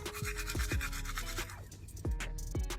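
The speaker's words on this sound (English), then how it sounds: "Now we're gonna brush my teeth." Toothbrush scrubbing teeth inside a parked car, a run of close, rhythmic bristle strokes with brief pauses between bursts, steady and fairly loud with no talking.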